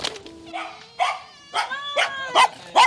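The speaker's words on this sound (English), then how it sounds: "greeted by a wonderful family with a small dog being very loud" A small dog barks loudly and repeatedly at the door of a home in Providence, Rhode Island, a close series of sharp yips and whining barks in an uneven rhythm.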